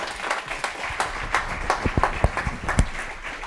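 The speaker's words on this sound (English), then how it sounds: "A big round of applause, please." Audience applause at a Kubernetes meetup: a steady wash of many hands clapping from a moderately sized crowd, a few sharper nearby claps standing out, with no talking over it.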